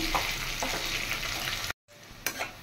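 Chopped onions fry in a pan with bay leaf and chilli, giving a steady sizzle and stirring clatter, briefly cut off and then returning with a sharp scrape.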